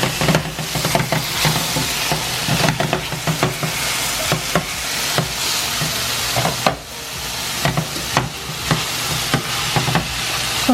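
Mushrooms fry in a pan with a continuous close sizzle, broken by repeated scraping and stirring clicks of a utensil against the pan.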